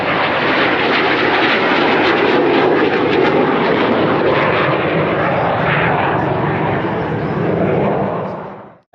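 A military attack jet at an outdoor airshow in Southern California roars loud and close throughout a tight 5G minimum-radius turn, a steady broadband engine rush that fades away at the very end.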